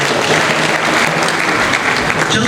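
A university lecture hall audience at an inaugural lecture bursts into loud, dense applause, a continuous wash of many hands clapping that holds steady without any voices.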